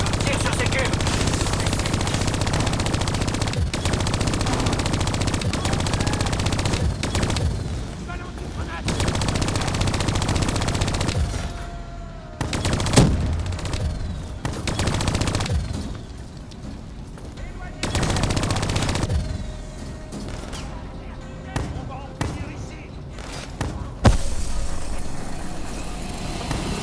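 Rapid automatic weapon fire in Call of Duty: Black Ops 3, with dense bursts and scattered single shots alongside explosions and game effects that come and go.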